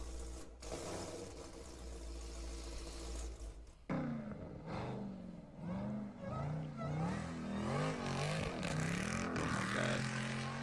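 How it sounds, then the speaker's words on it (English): A supercharged Jeep Trackhawk engine idles roughly, then revs repeatedly with a rising supercharger whine and a deep throaty exhaust roar, loud and close. "you got the Supercharger Whine in the front, just that like throaty, just ridiculous ripping exhaust in the back"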